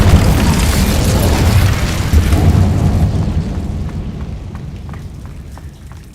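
Incendio fire spell explosion in a game: a loud, broad whooshing boom that roars for a few seconds, then slowly fades with crackling.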